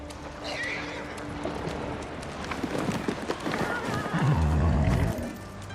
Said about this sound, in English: You look just like my father's horse.